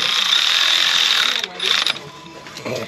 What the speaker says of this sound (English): install the nuts, and then we can tighten everything up